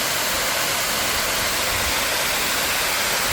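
A waterfall north of Nakusp, British Columbia, pours down a steep, rocky face, making a loud, steady broadband roar of rushing water that never lets up, with no voices over it.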